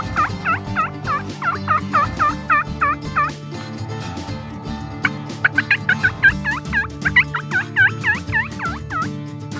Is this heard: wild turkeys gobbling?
yes